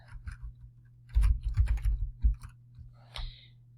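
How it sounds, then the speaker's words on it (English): A computer keyboard clatters in a quick burst of keystrokes, close and fairly quiet, with a few scattered clicks before and after over a low hum. "I'm going to type in"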